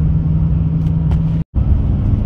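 A truck accelerating on the road sets up a loud, steady low engine rumble that drops out briefly for a split second, then resumes at the same level.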